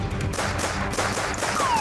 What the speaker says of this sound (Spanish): Más de 20 impactos de bala fueron a parar contra el vehículo y la vivienda del periodista